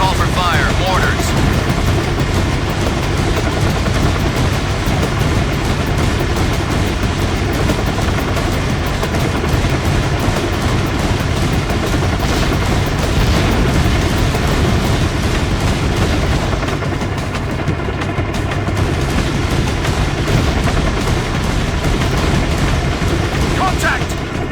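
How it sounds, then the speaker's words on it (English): Mortar strikes and battlefield gunfire in the PS2 game Battlefield 2: Modern Combat, a loud, dense and continuous din of booming explosions and rattling shots that stays steady for the whole stretch with no breaks. "Troops in the open, call for fire. Mortars."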